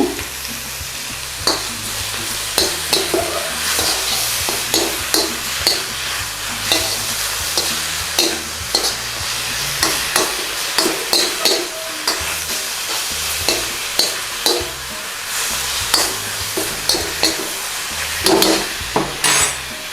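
Cabbage stir-fries in a hot wok with a splash of fish sauce, a steady loud sizzle broken by repeated scraping and tossing strokes of the utensil, with no talking.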